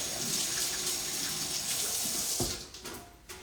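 Tap water runs over hands being washed at a sink, a close, steady splashing rush that cuts off near the end and leaves a few faint clunks and drips.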